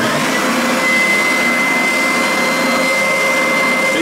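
A Triton oscillating spindle and belt sander runs continuously with a steady, loud whirring drone and a faint high whine, close by and alone.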